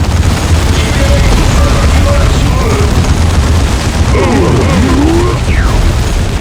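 Explosions and heavy gunfire from the real-time strategy game Dawn of War 2, with Ork targets being destroyed, booming loud and dense alongside rattling bursts and continuous battle noise, under French-speaking voices.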